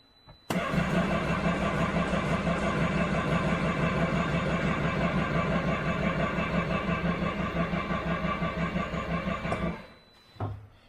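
A Can-Am Maverick R engine cranks in drown mode to pump out water without firing, the starter grinding steadily and loudly for about nine seconds before cutting off abruptly.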